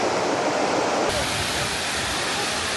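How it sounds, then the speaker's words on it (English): Continuous roar of a waterfall at Seven Falls, dense broadband rushing water heard up close and loud, steady for the whole stretch with a slight shift in tone partway through, no voices. "Well, I guess this waterfall is a fan."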